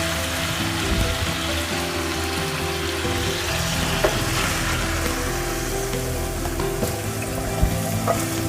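Hot baghar tempering is poured into a pot of nihari and sizzles, a steady crackling fry with scattered small pops throughout, at moderate loudness and with no voices.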